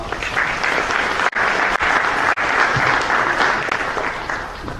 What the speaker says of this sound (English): So just one more round of applause for Brendan up top.